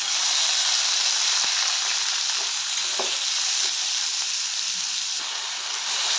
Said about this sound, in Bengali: আমার টমেটো হয়ে যাচ্ছে ভাজা।